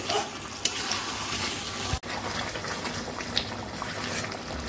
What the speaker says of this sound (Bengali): আর একবার মিশিয়ে দিচ্ছি টক দইটা দেওয়ার পরে।